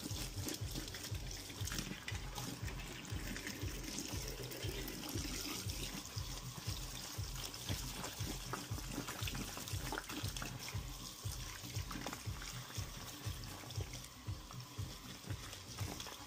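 Water runs steadily from a tap while a hairpiece membrane and its hair are rinsed and rubbed during washing, with a constant close splashing and pulsing low churn throughout and no talking.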